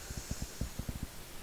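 A dog snores in the background of a room, a quick run of low, soft, rumbling pulses repeating in an even rhythm, faint and distant with no speech over it.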